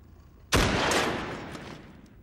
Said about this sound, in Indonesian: Tanpa ragu, Kulikov menembaknya.